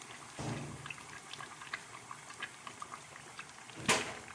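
A ground mix of tomato, garlic, ginger, green chilies and yogurt goes into a pot, giving a soft, faint bubbling and pouring wetness with a couple of brief louder clatters, close by and without speech.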